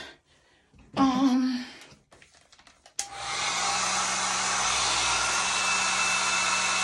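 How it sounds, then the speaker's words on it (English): A blow dryer switches on with a loud click and runs steadily at full power, after a brief burst of muffled rustling and handling noise. "I know y'all don't necessarily want to hear the blow dryer."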